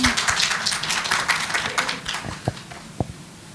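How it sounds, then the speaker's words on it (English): Applause from an awards ceremony audience, a dense patter of many clapping hands that thins out into a few scattered final claps near the end. "One more big round of applause, everyone."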